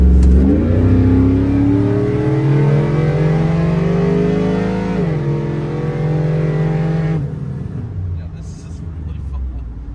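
A 1988 Chevrolet C1500 pickup with an LS3 V8 and 6L90 transmission revs up close and loud, its engine note climbing steadily, dipping briefly as if blipping for a gear change, then cutting off sharply.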